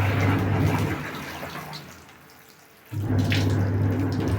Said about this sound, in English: let me put water on the clothes before we scrub